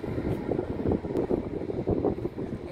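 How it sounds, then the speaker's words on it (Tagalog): Gusty seaside wind buffets the microphone on a walk along the coast, producing a steady, rumbling low roar with uneven surges and no speech. "Ayan, mahangin, no? Mahangin."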